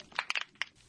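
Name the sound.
snapping shrimp underwater recording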